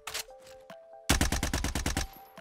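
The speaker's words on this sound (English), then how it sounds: "getting shot from like the hill too" Rapid gunfire from a Warzone video game match: a few scattered shots, then a fast, loud burst of about ten evenly spaced rounds, with a faint tone underneath.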